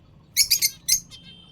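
Pet birds in a home bird colony setup give a close, quick run of four bright chirps followed by a fainter trailing tweet, all in about a second against a quiet room.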